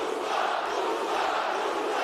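A Dubai arena crowd roars and chants for fighter Usman Nurmagomedov at a lightweight title MMA bout, a dense continuous wall of voices, loud and unbroken throughout.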